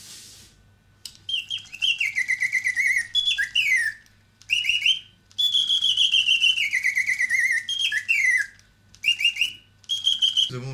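A mechanical bird automaton whistles a chaffinch song in repeated bright phrases of descending trills and chirps, with short gaps between bursts, close and clear over a steady low mechanical hum, with no voices.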